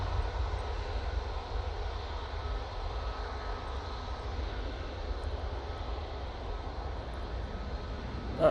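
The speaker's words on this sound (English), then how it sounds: "They're off to Malaga using that Bombardier Challenger" A Bombardier Challenger business jet departing Manchester Airport, heard as a steady, distant broadband engine roar that holds level throughout with a low rumble, a brief louder swell at the very end.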